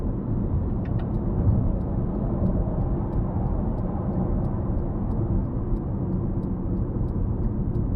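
Car turn signal ticking at a steady, even rhythm during a driving test route, a crisp faint click repeating under a loud, constant engine and road rumble inside the cabin.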